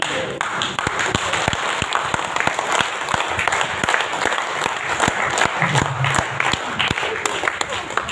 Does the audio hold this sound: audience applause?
yes